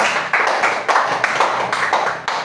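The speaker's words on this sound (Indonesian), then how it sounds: "tepuk tangan buat kesepakatan kelas" A classroom group applauds to mark a class agreement, with a steady run of close, fairly loud hand claps at a brisk rhythm that holds for a few seconds.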